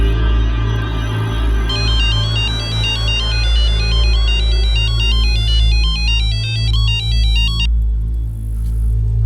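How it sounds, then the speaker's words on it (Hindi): A phone rings with a repeating electronic warble, loud and steady over a low droning hum, then stops. "धमकियों का ये सिलसिला बढ़ता चला गया, और पुनीत के अलावा उसके पिता को भी ये धमकी भरे फोन कॉल आने लगे।"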